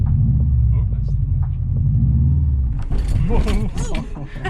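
A Subaru STI engine rumbles low and lugs as the clutch is let out, nearly stalling, then people start talking over the fading engine noise.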